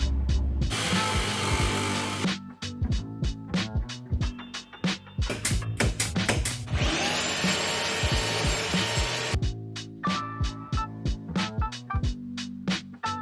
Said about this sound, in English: Just cutting out the piece for the other side now.